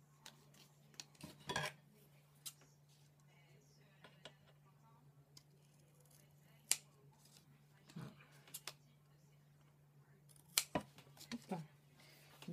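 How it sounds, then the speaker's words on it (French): Scissors snip around the edge of adhesive paper in a quiet room, with scattered faint clicks and cuts over a low steady hum. "Et après je vais couper le contour en fait."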